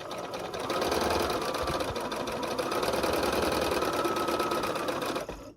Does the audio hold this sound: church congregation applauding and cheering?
no